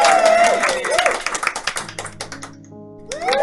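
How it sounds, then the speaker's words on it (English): A clapping sound effect plays in a Scratch coding project for a kids' maths quiz. It is a short run of sharp claps, with a voice talking at the start and end and some clicking alongside. "we'll make the sound clapping."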